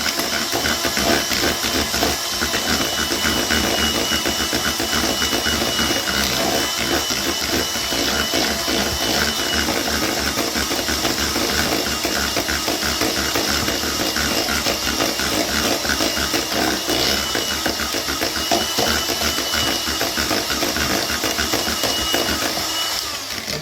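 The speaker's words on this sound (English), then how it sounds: "Make sure the mixer is on a low speed." An electric mixer runs on low speed, blending butter with the wet ingredients for choc chip cookie dough, making a dense, continuous whirring drone that stays loud and even with no speech.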